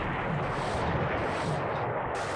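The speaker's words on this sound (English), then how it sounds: "there was just an internal explosion there on the Salamander" An internal explosion on the warship Salamander in a 1942 naval battle video game comes as a dense, continuous roaring rumble of blast and gunfire that stays loud and unbroken.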